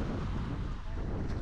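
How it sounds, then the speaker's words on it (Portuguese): Strong wind buffets the microphone at a beach at Praia do Forno, Arraial do Cabo, a steady loud broadband roar that fills the whole moment with no break. "É o vento também tá empurrando. Vento forte."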